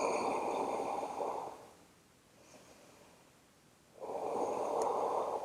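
Slow, audible breaths through the nose held in a downward facing dog yoga pose: a long exhale, a quiet pause, then a fresh inhale, close and soft with no talking.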